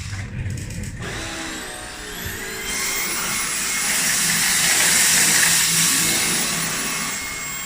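Two cordless stick vacuums, a Dyson V10 and a Beko, both set to power level 2, give a steady loud motor whine and airy roar that swells in the second half and runs without speech.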